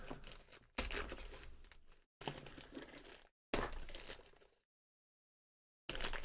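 Scissors slice open a cardboard shipping box holding a vsFighter order, and the packaging crinkles and tears. It comes as three loud, close bursts of crackling, then a pause of silence before the rustling starts again.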